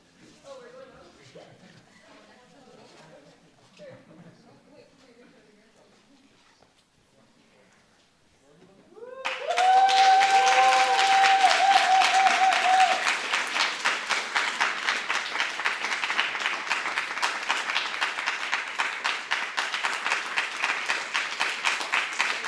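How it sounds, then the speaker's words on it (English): A community celebration audience for student organizing bursts into loud, sustained applause and cheering after a quiet stretch of distant talk, with a whoop and then a steady rhythmic clapping that continues to the end. "So round of applause."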